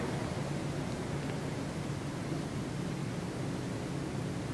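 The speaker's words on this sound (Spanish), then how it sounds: "Este es un radio AM y FM normal, pero pasa las frecuencias bien rápido." Steady hiss of AM/FM radio static as the dial scans rapidly through frequencies, a continuous broadband noise with no clear stations, heard at an even level inside an abandoned train yard.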